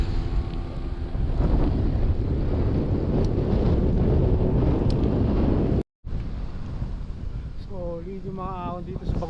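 Strong wind roars steadily across the microphone while riding near Pagudpud, a windy coastal stretch with windmills. The buffeting stays loud and continuous, cutting out briefly once, with a faint voice-like tone near the end.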